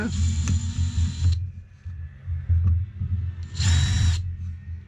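A DeWalt DW2700 drywall screwdriver drives screws in two loud whirring bursts near the start and end, with a steady low hum and soft clicks between them.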